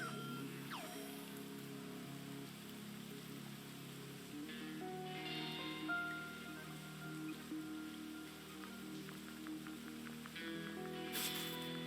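Steady, soft rain patters in the video game Unsighted as an even wash of drops, quiet and continuous, with faint game tones and no speech.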